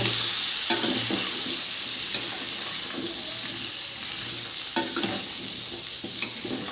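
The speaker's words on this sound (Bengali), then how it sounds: "আরও 5 মিনিট মতন আমি এটা ভেজে নেব।" Pumpkin, potato and chickpeas with salt and turmeric sizzle steadily in a hot pan, with occasional sharp clinks and scrapes of stirring breaking through the constant frying hiss.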